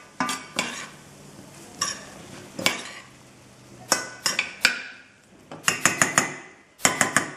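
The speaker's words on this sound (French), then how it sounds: "Et ensuite, les herbes aromatiques. Je mélange délicatement." A utensil gently stirs vegetables with aromatic herbs in a pot or pan, giving repeated close clinks and scrapes in irregular bursts, clustering quickly toward the end.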